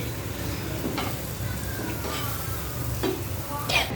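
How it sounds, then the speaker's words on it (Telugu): Paneer frying in butter in a pan, a close, continuous sizzle with a few brief scraping stirs breaking through the steady hiss. "ఇలా మంచిగా ఫ్రై చేసుకోవాలి, రోస్ట్ చేసుకోవాలి."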